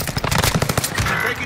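Rapid automatic gunfire in the battle royale game Warzone on Rebirth Island, loud close bursts of machine-gun shots firing in quick succession for the whole stretch.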